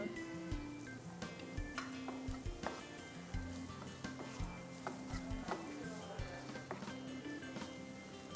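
Nadan masala of cardamom, cloves, coriander and cumin frying in a pan, a steady crackling sizzle with sharp ticks and spoon clicks, close but quiet, with no talk.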